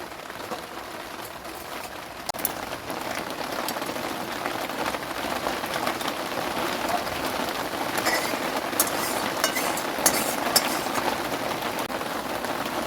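Heavy rain pours steadily onto surfaces, a dense, constant close hiss with scattered drop impacts, loud and unbroken throughout with no voices.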